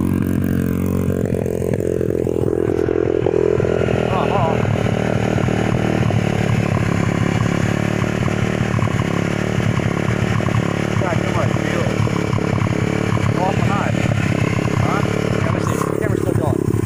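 A 125cc pit bike engine fitted with a brand new carburetor idles roughly and sputters close by, its uneven running steady throughout, with people talking over it.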